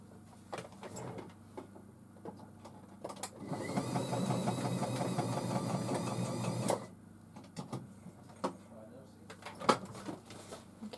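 Sewing machine running a zigzag stitch through a handmade floral journal, a steady mechanical whirring burst of about three seconds between quieter handling noises, with a voice talking around it.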